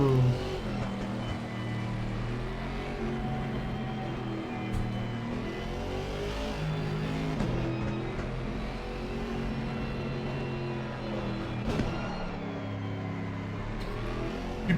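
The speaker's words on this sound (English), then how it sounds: "I love the noise of the Aston Martin." An Aston Martin race car in the ACC racing game climbs Mount Panorama at low speed. Its engine revs continuously and rises and falls through gear changes, with a brief sharp burst near the end.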